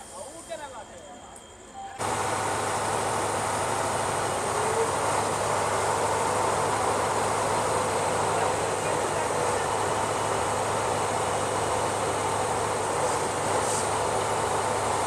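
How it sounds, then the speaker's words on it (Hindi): A WDP4 diesel locomotive idles loudly at close range while coupling onto a Rajdhani Express, a heavy steady engine drone with a low throbbing hum that switches on abruptly after a quieter opening and then holds without a break. "ये है अपना सिलीगुड़ी साइड का WDP4 लोकोमोटिव जो कि अभी कपल हो रहा है अपनी राजधानी एक्सप्रेस में"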